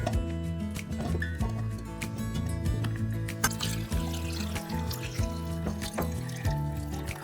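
Water pouring into a blender jar over chopped beetroot, a steady close trickle and splash running throughout at moderate level beneath faint background music.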